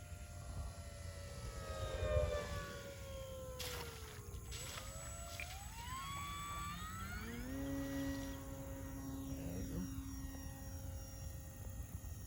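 An FMS Supercub 1700mm RC model plane on floats flies with a whining electric motor whose pitch rises and falls as it passes and climbs, moderately distant over steady outdoor background noise.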